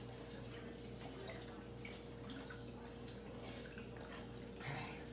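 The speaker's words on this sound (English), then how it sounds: "so I'm gonna mix this." Spoon clinking and swirling through an apple cider vinegar brine for dill pickles, faint light taps and soft stirring over a steady low hum, with no talking.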